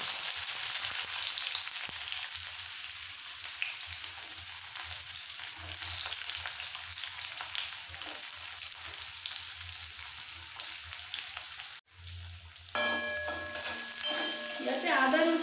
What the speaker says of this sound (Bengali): এই সমস্ত মশলাটা তেলের মধ্যে দিয়ে একটু হালকা ভেজে নেব।